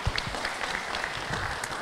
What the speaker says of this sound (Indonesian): Kita beri tepuk tangan buat Robi.